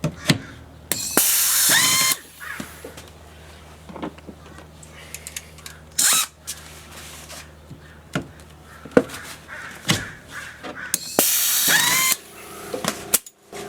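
Riv nuts being set with a rivet nut tool while fitting a door bracket for a kids' cot, giving several loud, brief bursts of mechanical clicking and ratcheting separated by quieter handling noise.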